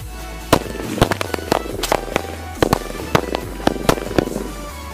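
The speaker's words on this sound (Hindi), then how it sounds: "मिट्टी के पहाड़ में हम ये लड़ी बम जलाएंगे, सारी पूरी एक लड़ी है" A string of ladi firecrackers bursting inside a sand mound: a rapid, uneven series of loud sharp cracks and pops over a low rumble, close by, with no talk.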